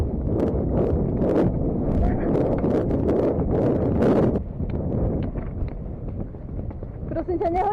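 Wind buffets the microphone during a pony ride, a steady rough roar that dominates throughout and eases slightly after the midpoint, with voices and faint movement sounds underneath.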